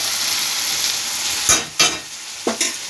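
Plantain flower and prawn curry stirred in a pan after a spoonful of ghee is added, with a steady background sizzle and a few distinct scraping stirs near the end, close and moderately loud.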